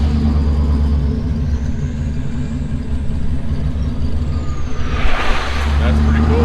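Road traffic near the Chicago Sanitary and Ship Canal, heard from inside a car on a road trip: a constant, close engine and road rumble, with another vehicle swelling louder as it passes near the end.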